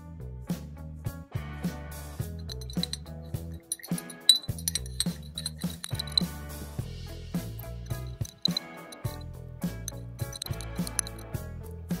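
Steel washers, wrenches and taps clink and tap against one another in an acetone degreasing bath, a steady run of small close metallic knocks and rattles with no talking.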